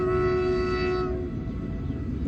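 A petrol tanker train passes beside a village house, its horn blaring loudly for about a second before giving way to a steady rolling rumble of the wagons.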